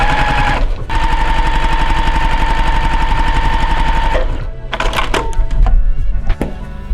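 A sewing machine stitches elastic onto a washable ironing board cover, a fast loud mechanical rattle running steadily, pausing, then resuming in shorter bursts with thumps, close up and without talk.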